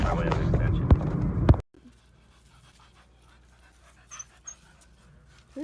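Neighbours' dogs pant heavily and loudly close by for a second and a half, then the sound cuts off abruptly into near silence with only faint, scattered noises.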